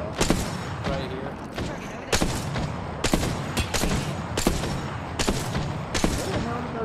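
Incoming gunfire in a competitive shooter video game cracks around the player in irregular bursts, sharp loud shots scattered across the scene with short gaps between them.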